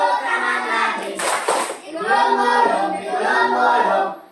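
Children in a classroom clap their hands during a fast-paced action song game, a burst of brisk clapping near the middle amid a group singing and chanting together.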